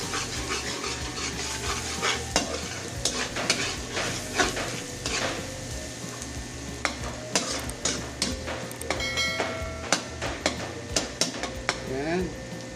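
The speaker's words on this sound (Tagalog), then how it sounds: "Halo-halo lang po para po hindi manikit or hindi masunog." Garlic is stirred in a sizzling pan while cooking, with frequent scraping and clinking of a spoon against metal over a continuous hiss of frying.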